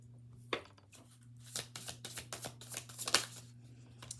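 A deck of tarot cards is shuffled close up, a single riffle snap followed by a quick flurry of papery flicks over a steady low hum.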